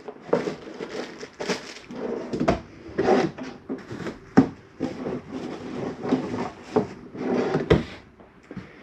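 A drawer in a 2024 Keystone Bullet 260RBS camper is worked repeatedly. Wooden knocks, slides and clatters come up close and irregular, with rustling between them and no talking.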